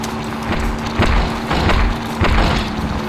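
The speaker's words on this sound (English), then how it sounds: "Scarily high damage output this 30mm cannon has" A turret-mounted 30mm cannon in the driving combat game Interstate '76 fires heavy, booming shots roughly every half second to second, loud and dense in a mix that includes other game noise.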